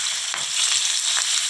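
Anchovies coated in spice paste fry in a hot pan, giving a steady, close hiss of oil sizzling throughout with a few soft crackles and pops.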